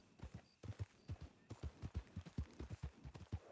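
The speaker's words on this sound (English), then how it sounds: "Those horses are running from something." Several horses gallop in the Red Dead WildRP game, a steady, fast drumming of hoofbeats at moderate distance, fairly faint, with no talk over them.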